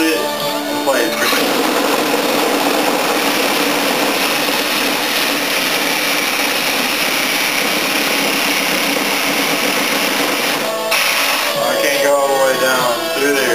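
A power saw blade cutting steadily through material while working on the air conditioner of a 2005 Dakota, a loud continuous whining buzz running nearly the whole time, a voice speaking faintly near the end.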